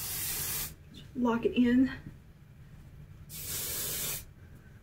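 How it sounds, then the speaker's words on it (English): Hair spray hisses from an aerosol can in two short bursts at close range, around a brief spoken phrase, while styling deep-waved hair. "A little spray."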